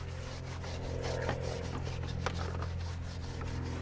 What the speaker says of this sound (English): So you wanna do is definitely scrub the tires too